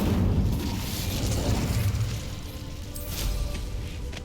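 Incendio fire spell cast in the Hogwarts Legacy video game, heard as a sustained rumbling, crackling burst of flame that stays loud and dense for several seconds with no talk over it.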